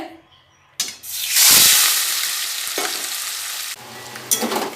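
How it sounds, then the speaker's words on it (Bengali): Prawns rubbed with salt and turmeric drop into hot oil in a kadai, erupting into a loud, bright sizzle that hisses steadily, with softer stirring moments and renewed spurts of spitting oil. "চিংড়ি মাছটা নুন হলুদ মাখিয়ে ভেজে নেব তেল গরম হয়ে গেছে"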